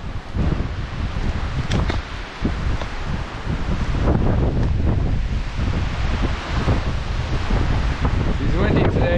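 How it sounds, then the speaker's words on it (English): Strong wind buffets the microphone in a mossy forest along a trapline in northern British Columbia, a loud, continuous rushing roar with gusty swells throughout. "It's windy today"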